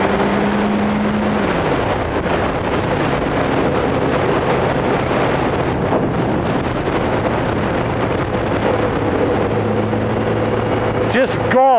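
An engine held at quarter throttle around 4,000 rpm drones steadily and loudly up close, buffeted by wind noise, with its pitch shifting slightly as it runs.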